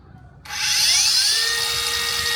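A budget cordless angle grinder spins up at its second speed level, a short burst followed by a loud, steady high-pitched whine with a rising tone that levels off, heard close and with no speech over it.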